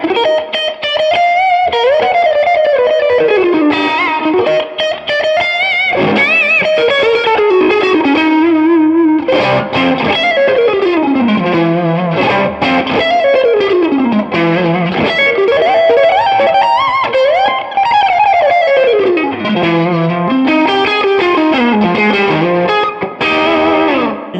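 Distorted electric guitar on the neck pickup with tone on full, a Patrick James Eggle 96 Model, gives a warm, rounded tone playing a sustained, fluid lead line with sweeping runs and bends, saturated and continuous.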